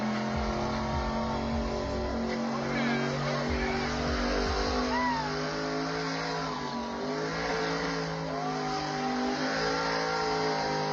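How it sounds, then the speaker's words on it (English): A car doing a tire burnout at a burnout competition, its engine droning and revving steadily for the whole stretch, with crowd voices and chatter mixed over the roar. "they're roasting those tires, blowing them up"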